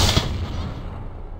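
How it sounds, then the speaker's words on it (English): A frag cannon rocket launcher in the game Project Einherjar fires once, a single loud blast at the start that trails off into a decaying rumble with no voices. "The frag cannon's a rocket launcher."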